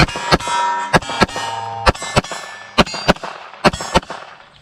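Sharp pistol shots from an SCT 17 fitted with NDZ performance upgrade pins, slide lock and takedown lever, fired at a range in an uneven string of about eleven loud, close cracks with brief ringing between them.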